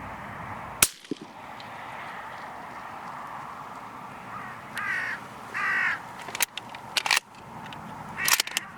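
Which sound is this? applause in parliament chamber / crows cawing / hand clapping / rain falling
crows cawing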